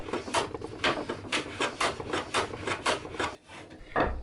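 A hand plane shoots the end of a wood piece, giving a steady run of about nine close, crisp rasping strokes with short gaps, then a pause and one more stroke.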